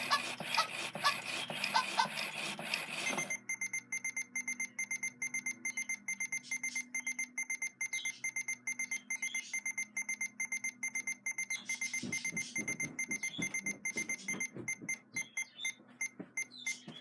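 A robot toy dog emits a steady stream of rapid electronic beeps in a regular pulsing rhythm, preceded by a brief louder burst of noise, with clattering near the end.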